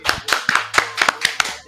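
A quick run of about nine sharp handclaps at an even, brisk tempo, close and clear with no talking, like a small round of applause.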